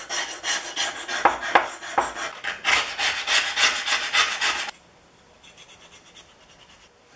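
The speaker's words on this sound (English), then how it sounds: "The old scraper makes short work of surface rust." Steady rasping scrapes of a hand scraper removing surface rust from a Stanley No. 18 block plane, rhythmic back-and-forth strokes close up, then quieter lighter scraping after a brief pause.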